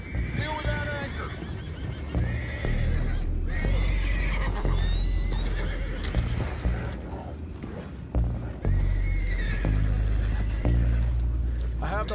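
Horses neigh and whinny repeatedly amid hoof clatter and a dense background of voices during a boat scene in the video game Red Dead Redemption 2.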